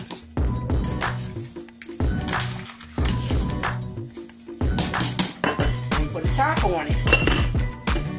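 Seasoned chicken tossed with soul food seasonings, pepper and cilantro in a bowl, giving repeated clattering and clinking of utensil against the bowl in irregular bursts, close and fairly loud, with some speech in between.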